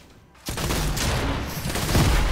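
Rapid bursts of gunfire in the video game Fortnite break out after a short quiet moment and keep up loud and dense, with booming low thuds near the end.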